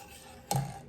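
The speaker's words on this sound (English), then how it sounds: "Keep stirring." A spoon scrapes once against a pot of hot bread and rice pudding, a single short clatter standing alone in a quiet kitchen.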